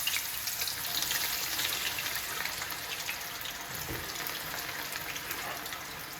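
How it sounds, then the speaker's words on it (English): Eggplant pieces deep frying in hot oil, a continuous fairly quiet bubbling sizzle that holds steady throughout with no voices. "I will deep fry the eggplant pieces."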